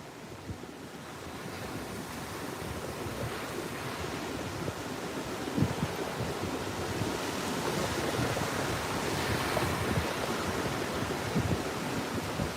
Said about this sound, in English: Hopefully you guys can hear the waves and everything